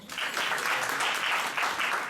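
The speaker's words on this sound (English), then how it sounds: "If you know me, clap right now, if you know me." A comedy theater audience bursts into clapping, a steady dense round of applause from a crowd that holds for a couple of seconds at fairly close range.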